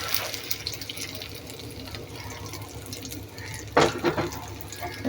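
Beaten egg mixed with salt, chilli, onion and coriander leaves hits hot oil, giving a steady close hiss with a sharper burst of sizzling near the end.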